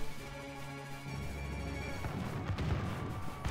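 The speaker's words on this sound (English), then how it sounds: "We have the pirate musketeers too, firing at them." Pirate musketeers fire in a Warcraft: Total War battle at Zul'Farrak, with musket volleys and booming impacts layered over a dense, continuous battle din.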